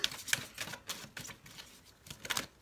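Tarot cards being shuffled by hand give a steady run of crisp papery flicks and taps, close and fairly soft, with no voices.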